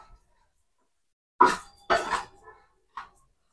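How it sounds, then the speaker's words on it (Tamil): Varagu rice is stirred and roasted in a pan, heard as a few sparse clinks and scrapes of a utensil against the pan, three short knocks separated by quiet pauses. "இது நல்லா கொஞ்சம் பொன்னிறமாக வறுத்து எடுத்துக்கலாம். கைவிடாமல் தீயாமல் வறுத்து எடுத்துக்கோங்க."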